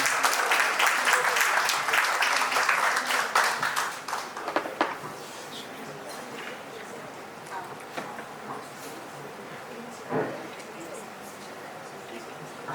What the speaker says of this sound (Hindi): तालियों की गड़गड़ाहट के साथ बुलाऊंगा